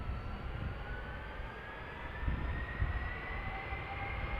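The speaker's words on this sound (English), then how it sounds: "there's Delta A330 on the threshold" A Delta Airbus A330 airliner sits at the runway threshold at Amsterdam Schiphol, its engines giving a steady, broad jet roar with rumble and a high whine, loud and continuous, swelling slightly toward the end.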